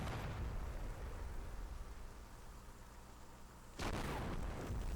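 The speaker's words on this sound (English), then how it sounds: "Hear lots of explosions off in the distance, all in-game actual sounds" Distant in-game explosions from Combat Mission: Black Sea roll as a low, continuous rumble, and one sharper boom breaks through near the end, with no voices.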